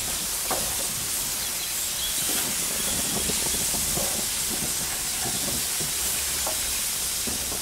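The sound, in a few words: peaches sizzling on a Weber Q grill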